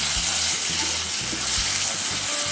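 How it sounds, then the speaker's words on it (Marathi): Onion paste with spices and ginger-garlic paste sizzling in a pan for chhole masala, a steady loud frying hiss with low rhythmic stirring or scraping thumps, no talking. "कांदा पेस्ट चांगली आपली फ्राय झालेली आहे."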